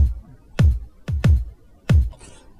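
Four punchy programmed bass drum hits played alone, deep and thumpy with a quick decay, in an uneven rhythm with a pair close together.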